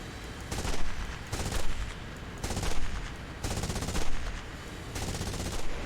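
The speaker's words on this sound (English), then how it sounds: "gun sounds good." Aircraft machine gun fire in War Thunder, heard from the cockpit as repeated loud bursts of about a second each, evenly spaced, over a constant engine drone.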